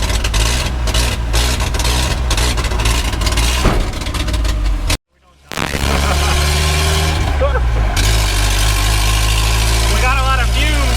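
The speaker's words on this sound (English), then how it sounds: "Minus that exhaust leak makes it sound rowdy." A car engine with an exhaust leak runs loud and rough after a clutch replacement, with a brief cut near the middle before the rumble resumes. Voices talk over it.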